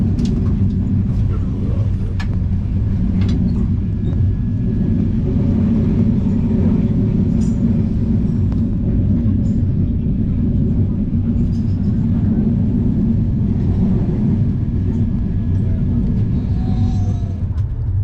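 A train rolls slowly over a bridge on the run from Dhaka towards India, giving a steady, loud, continuous low rumble with faint rattles throughout.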